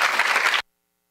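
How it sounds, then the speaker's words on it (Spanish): Audience applause at a Panamanian science conference for International Day of Women and Girls in Science, a dense burst of clapping that holds steady for about half a second and then cuts off abruptly into silence. "Un aplauso para ellos."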